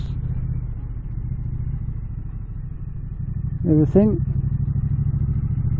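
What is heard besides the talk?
Triumph Street Cup motorcycle engine with stock exhausts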